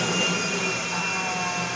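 A commercial jet airplane engine in the GTA V video game, a steady, loud roaring whine with broad rushing noise, continuous and unchanging through the short stretch, with no talking over it.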